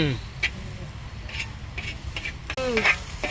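Green tomatoes fry in a pan with little oil, making a low sizzle with scraping stirs and a sharp clatter near the end, while a person talks over the cooking.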